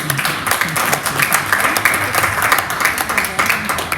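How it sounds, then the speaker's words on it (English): An audience at a workshop claps for volunteers, a loud, dense run of many hands with a steady, slightly pulsing rhythm that carries on for several seconds, with faint voices mixed in. "can we kindly ask our bosses to clap for our volunteers?"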